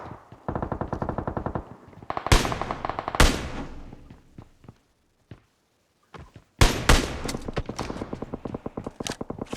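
Loud bursts of automatic rifle fire in PUBG Mobile rattle in rapid rhythmic volleys, breaking off into short silences and then resuming with sharp, close shots.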